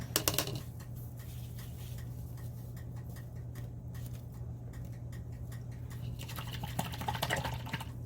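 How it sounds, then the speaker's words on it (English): A paintbrush is rinsed and swished in a cup of water between colors while painting a flamingo canvas. Soft watery drips and taps sit over a steady low hum, with no talking. "Rinse that brush out."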